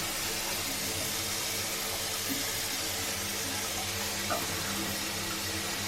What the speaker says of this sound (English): Yeah, the water is flowing perfect now.